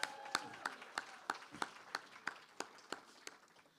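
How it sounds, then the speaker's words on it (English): Sparse applause for Jeff at a literary reading, heard as a handful of separate, evenly spaced claps, faint and thin, tapering off over a few seconds. "How about another round of applause for Jeff?"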